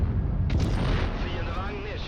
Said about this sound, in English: So here I shoot on the third shell